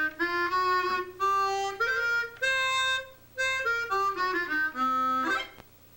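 A large 64-style chromatic harmonica with a slide button runs through a blues scale, its reedy, buzzy tones rising note by note and then falling back down, played close with no voices.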